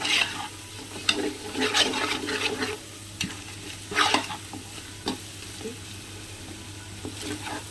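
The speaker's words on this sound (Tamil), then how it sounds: "இஞ்சி பூண்டு பேஸ்ட் போட்டு ஒரு அஞ்சு நிமிஷம் அப்படி வதக்கி விடுங்க" Ginger garlic paste sautéed with onions in a pan for homemade biryani, a low sizzle under intermittent stirring scrapes and clatters, fairly soft and without speech.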